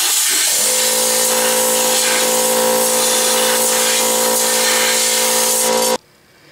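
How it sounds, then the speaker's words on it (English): Compressed-air gun blowing metal chips out of a Clausing milling machine during reassembly, a loud, steady, close hiss lasting several seconds before cutting off abruptly. "I'll get even with them with my air gun and blow them out of there"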